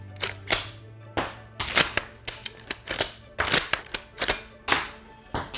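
A replica airsoft rifle combining Garand and bolt-action designs is loaded with an eight-round clip and worked, a close series of sharp irregular mechanical clacks and snaps separated by short pauses, fairly quiet.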